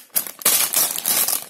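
A plastic bag of Lego pieces from the Minecraft Mushroom Island set 21129 crinkles and rustles in close, loud bursts over a second and a half.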